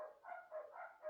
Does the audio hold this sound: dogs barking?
yes